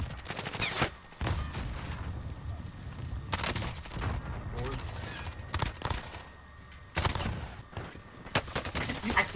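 Bursts of gunfire in the Warzone video game come in several sharp, loud volleys spread across the stretch, separated by quieter gaps filled with ambient noise and players talking.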